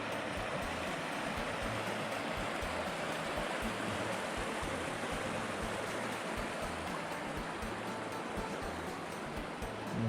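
Stream water of Huai Maep on the Laos–Thailand border rushes in a continuous, even broadband flow, close by and unbroken for the whole stretch, with no voices.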